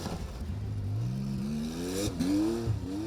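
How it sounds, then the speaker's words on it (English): A Ford Escort rally car on the East African Safari Classic Rally accelerates through several gears with a rough, uneven engine note, the revs climbing repeatedly at moderate distance. "A bit of a rough sounding escort from Faraz Khan."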